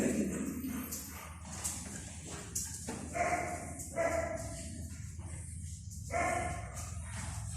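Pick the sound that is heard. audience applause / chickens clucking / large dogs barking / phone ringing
large dogs barking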